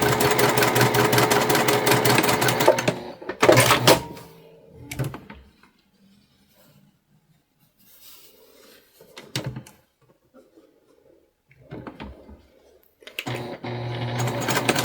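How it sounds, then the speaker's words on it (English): A sewing machine stitches the corners of a quilted fabric basket, whirring in loud steady bursts at the start and end, with quiet handling clicks and fabric rustles in the gap between. "we're going to stitch them together"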